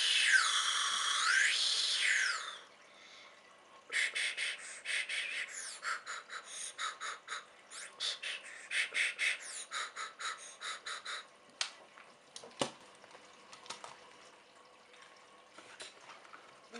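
A Despicable Me 2 Minion toy slide whistle from a McDonald's Happy Meal glides up and down in pitch for a couple of seconds, loud and close, followed by scattered rattling and clicking handling noises.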